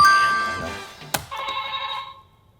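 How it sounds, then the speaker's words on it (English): A game show buzzer bell rung too early trills brightly at the start, fades, then rings again in a second sustained burst after a sharp click. "we're gonna have to take points away from you for ringing it too early"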